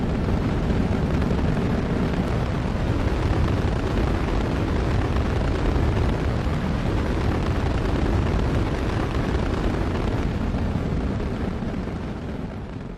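A rocket lifts off with a loud, continuous broadband roar and rumble that holds steady for several seconds before slowly easing off.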